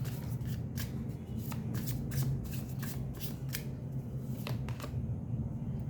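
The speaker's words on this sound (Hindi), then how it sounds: "मैं एक कार्ड को क्लैरिफाई कर देती हूँ।" Tarot cards being shuffled to draw a clarifying card, making a steady run of riffling, slapping card sounds close up, with no talking.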